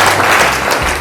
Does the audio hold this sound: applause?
yes